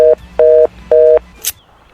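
A telephone call in progress gives three evenly spaced, loud electronic tone pulses, each about a quarter second, followed by a brief click and quiet.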